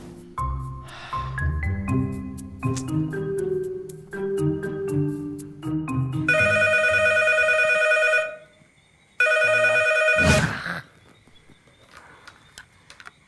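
A telephone rings at midnight, sounding in two long bursts of bright electronic trilling with a gap between them, preceded by a musical melody and followed by a sharp clatter.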